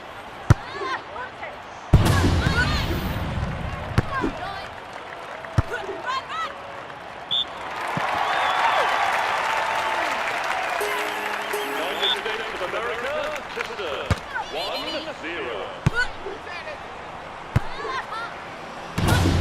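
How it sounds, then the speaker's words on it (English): Crowd applause and cheering rise in a London 2012 Olympic volleyball video game after a point is won, a broad swell in the middle lasting several seconds, framed by sharp ball hits and slams with commentary throughout. "The crowd are on their feet with that point won."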